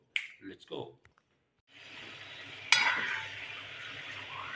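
Chicken and garlic fry in a karahi with a continuous close sizzle, interrupted by a sharp clatter of stirring. Someone speaks briefly before the frying starts.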